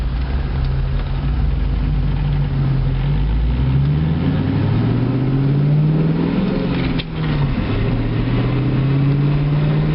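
A 2002 Ford Mustang GT's V8 engine revs up and down repeatedly, the pitch rising and falling in long sweeps with a brief dip as a gear changes, loud and close throughout.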